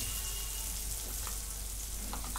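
Soft, even sizzle of paneer korma ingredients frying in a pan, a continuous low hiss with a faint stir or two and no voices.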